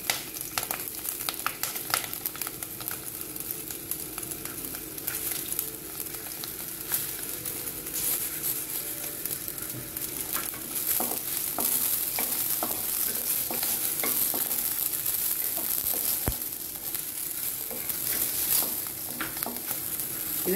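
Green chillies and dried red chillies frying in a pan for idli sambar, a steady hiss of hot oil with occasional sharp pops and stirring scrapes, close and continuous without talk.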